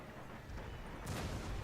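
Artillery cannon fire in the Empire Total War video game, a muffled rumbling boom rising over steady battle noise, distant and low.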